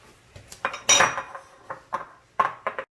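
Empanada dough of flour and eggs is mixed in a bowl, with a utensil clinking and scraping against the dish in irregular, close knocks and rattles, no voices.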